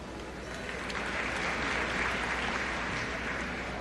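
A crowd at a world gymnastics championship applauds politely, a dense, steady patter of clapping lasting a few seconds at an even level with no voices.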